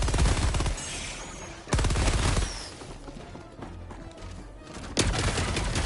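A heavy machine gun emplacement in Helldivers 2 firing in long, loud, dense bursts with brief gaps between them, set over a rumbling game background.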